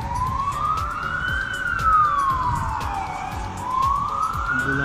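An ambulance siren in an Old Town street in Kraków wails in slow rising and falling sweeps, loud and fairly close over low traffic rumble and city background noise.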